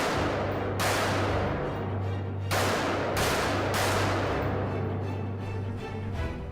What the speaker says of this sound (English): So let's raise the stakes with an AR-15.